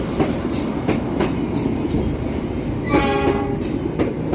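A passenger train rumbles past at close range entering a station on a straight track, steady low clatter of wheels with a brief tonal squeal partway through.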